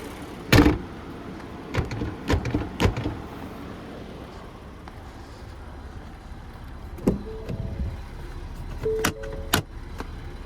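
The light hood of a 2025 Ford Explorer ST with a 3.0-liter twin-turbocharged V6 drops shut with a sharp close thud, followed by scattered clicks and knocks at close range with no speech.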